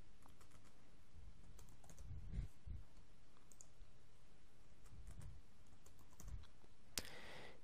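Someone types a username and password on a computer keyboard, sparse clusters of soft key taps and clicks at moderate distance over a quiet room hiss, ending with a sharper click.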